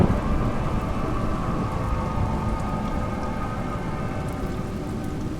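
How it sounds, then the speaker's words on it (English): Steady rain falls with a low rumble of thunder underneath in the video game A Juggler's Tale, continuous and full throughout. "It's raining."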